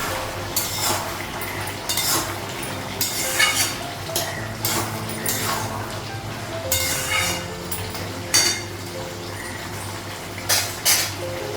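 Clattering metal pot and lid sounds in a home kitchen, with repeated clinks and knocks of cookware over a low steady hum, no voices.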